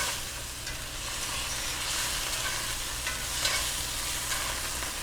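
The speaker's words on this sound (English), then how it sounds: "the pan is still quite hot, which is why it's still sizzling" Diced canned green chilies sizzle steadily in a hot cast iron pan off the burner, with soft scraping from stirring throughout; a continuous close, moderate frying hiss.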